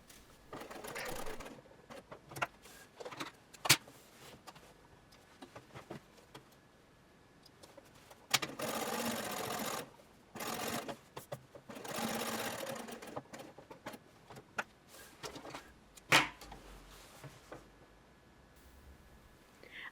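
A sewing machine top-stitches up and around the lapels of a shirtwaister dress's rever collar, running in several separate bursts of steady close whirring with short pauses between them.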